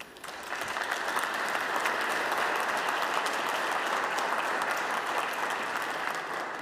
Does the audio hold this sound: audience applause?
yes